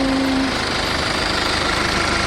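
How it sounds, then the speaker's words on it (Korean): A Hyundai Grandeur HG 220 diesel engine idles steadily up close, a constant clattering rumble with no voices over it. "디젤 엔진답게 소음은 있고요."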